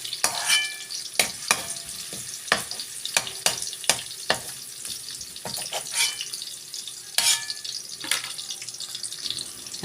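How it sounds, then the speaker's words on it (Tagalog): Garlic frying in a pan for chicken caldereta, with sharp, loud clacks and scrapes of a spoon against the pan over a bright, crackling sizzle and some watery hiss. No one speaks. "Nagisa naman tayo ng bawang at sibuyas."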